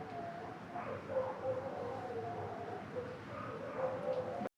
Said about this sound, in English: One of them is howling right now.